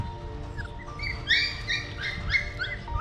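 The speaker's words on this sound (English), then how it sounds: "There are many little puppies here all over." Several small puppies whimper and yip in high, thin cries among rubbish in Battambang, Cambodia, overlapping in short bursts close by over a low background hum.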